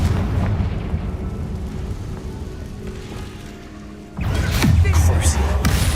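A Confringo blasting spell from a Harry Potter video game goes off with a sudden loud burst about two-thirds through, after a stretch of steady rumbling effects and low noise.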